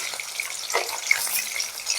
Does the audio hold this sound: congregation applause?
no